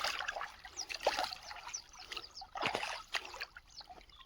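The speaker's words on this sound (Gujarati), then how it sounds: "જો મિત્રો અહીંથી પાણી આવે છે." Cold water trickles and splashes in a farm channel fed from a motor pump, heard close with soft irregular gurgles and drips, no talking.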